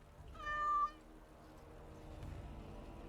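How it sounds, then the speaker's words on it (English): A single cat meows once in the video game Dragon Age Awakening, a short, clear, tonal meow standing alone over a quiet background hum. "Why did Nathaniel meow?"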